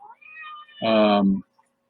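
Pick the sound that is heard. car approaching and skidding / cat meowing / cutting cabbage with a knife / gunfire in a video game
cat meowing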